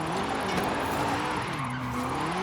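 Car tires skid and squeal through a sustained drift in Forza Horizon 5, a rear-engined drift-tuned car sliding with the engine droning underneath, loud and continuous with no pauses.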